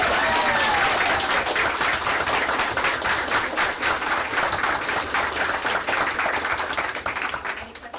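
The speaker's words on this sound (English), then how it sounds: "All right, we'll clap first." A room of people at a school committee meeting breaks into sustained clapping, fairly close and even, with a faint voice or two underneath, tapering off toward the end.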